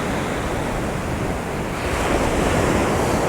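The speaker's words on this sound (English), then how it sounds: "All of a sudden, out of nowhere, a huge wave comes in." Big sea swell breaking on the shore at Tunstall on the UK coast, a loud continuous roar of surf and rushing water swelling toward the end, buffeted by heavy wind noise on the microphone, with no voices.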